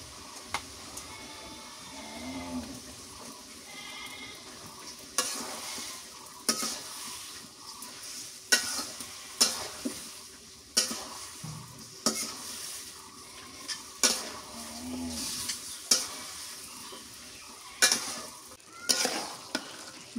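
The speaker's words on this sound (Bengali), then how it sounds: "মাংসটা ভালো করে কষান করে নেব।" Meat being stir-fried with onion and ginger paste sizzles in a pan, punctuated by repeated scraping and clattering strokes of a spatula at an irregular rhythm over a low, steady frying hiss.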